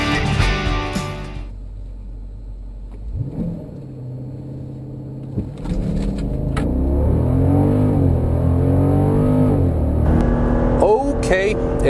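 A Jeep Grand Cherokee SRT accelerates hard, its engine rising in a loud, swelling rev that builds steadily through the gears, heard up close from inside the cabin with a voice talking over it.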